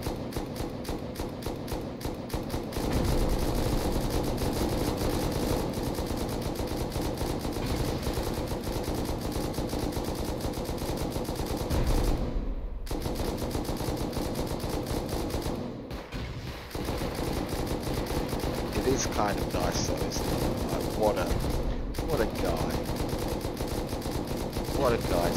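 Turret fire in a video game during a raid on an iceberg base: sustained rapid machine-gun bursts running almost continuously, with a few short pauses between volleys.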